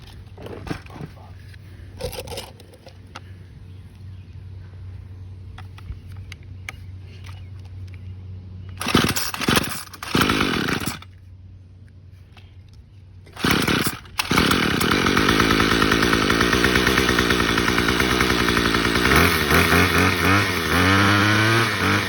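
A Troybilt TB32EC split-shaft string trimmer with a newly installed carburetor is pulled repeatedly, sputters briefly, then catches and runs as a loud, buzzy small two-stroke engine, idling and revving up close by.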